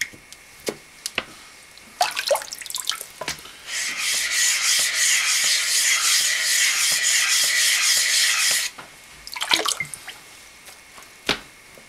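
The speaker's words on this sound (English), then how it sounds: "What I'm doing is making sure those are going. But it's about 5 figure eights and you're usually done." A razor honed on a wet Shapton 8K whetstone gives a steady, close, hissing scrape that runs unbroken for about five seconds. Brief clicks and short strokes come before and after it.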